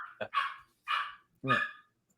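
A dog barks three times in quick succession, fairly close and clear, with short pauses between the sharp, yappy barks and no talk over them.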